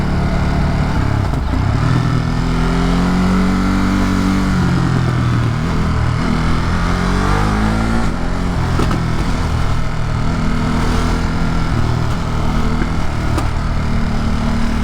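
A motorcycle engine revs loud and close during an evening city commute in New York, pitch rising and falling as the bike accelerates through traffic, with no one talking.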